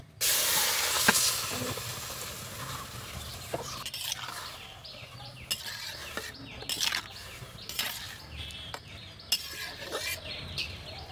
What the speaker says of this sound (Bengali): এখন কড়ার ভিতরে এই চিনি মাখানো আমটা ঢেলে দেব।